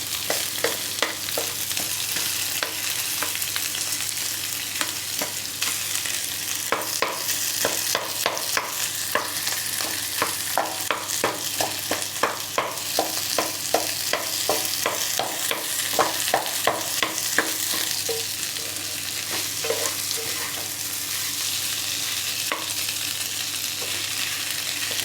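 Potatoes frying in a pan, a long steady sizzle with bursts of rapid, rhythmic scraping and clinking as they are stirred, heaviest in the middle stretch. There is no speech.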